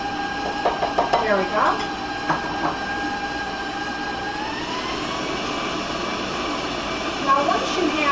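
Electric mixer whirring through chocolate cake batter, a steady motor drone that rises in pitch as the speed increases, with someone speaking briefly over it.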